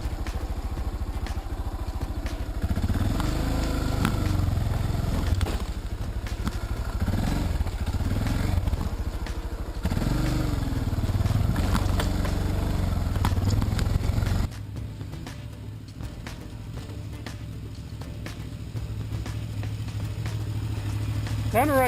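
A new Yamaha 660 Tenere adventure motorcycle on an enduro pub run with other bikes, engine droning and revving in waves at mid distance, with people talking over it.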